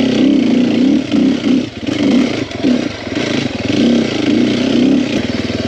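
Sherco 300SEF four-stroke dirt bike engine, loud and near, its throttle rising and falling in steady pulses with a rough mechanical clatter throughout.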